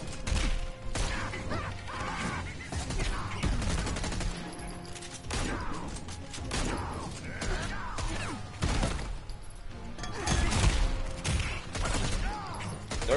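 Joker firing guns in Injustice 2, bursts of rapid gunfire and clattering impacts spread across a busy fight with mechanical clanks and occasional in-game voice grunts.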